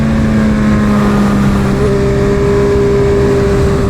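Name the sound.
loud exhaust of a BMW M 1000 RR motorcycle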